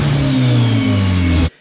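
A turbocharged four-cylinder Mustang engine revs hard on a dyno, a loud close steady roar that cuts off abruptly into near silence after about a second and a half.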